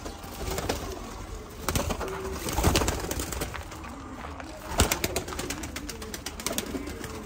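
Pigeons coo softly amid steady background noise, with occasional sharp knocks and rustles, the cooing low and continuous rather than distinct.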